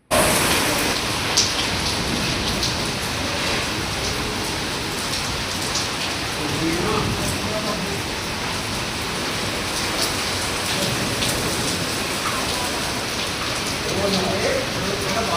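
Steady rain falls on surfaces at home just after a sudden downpour begins, a dense even hiss with scattered drops and patters, loud and continuous throughout with faint background sounds.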